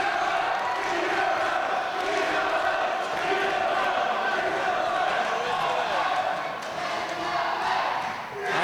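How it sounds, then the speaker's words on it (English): A wrestling arena crowd roars wildly in a dense, sustained wall of cheering and shouting that barely dips, loud and steady across the whole stretch. "this crowd absolutely crazy, going absolutely nuts for both of these guys"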